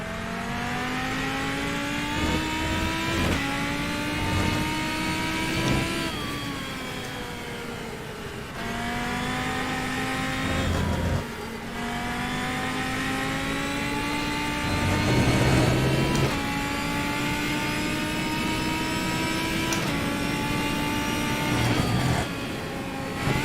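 Formula Ford historic open-wheel race car engine in a VR racing game, a steady high-pitched drone rising and falling through gear changes, with brief lifts and re-accelerations throughout, loud and continuous with no talk.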